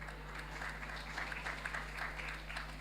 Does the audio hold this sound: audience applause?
yes